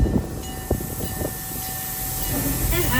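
Serengeti Express excursion train pulling out of Nairobi station at Busch Gardens Tampa Bay, with a steady rumble and hiss, a faint high whine, and a few knocks and clanks of the cars.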